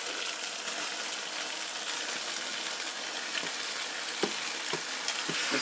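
Fiddlehead ferns fry in a tomato masala in a pan. A dense, steady sizzle plays close up with occasional soft stirring knocks and spatula taps toward the end, and no voices are heard.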